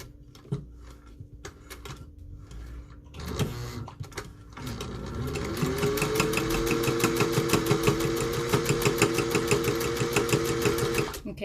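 An old grandma sewing machine stitches through thick scrap fabric for a face mask, starting with a few hesitant stops and clunks, then running in a steady, close, rapid mechanical chatter.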